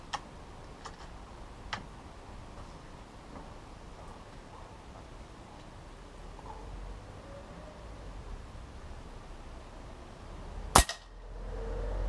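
A Gamo Arrow air rifle fires an H&N Baracuda pellet, one sharp loud crack near the end after a quiet stretch with a few faint clicks.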